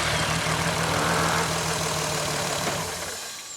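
A VW Golf R32 engine cranks over without fuel, giving a close, steady, rough churning drone that fades toward the end.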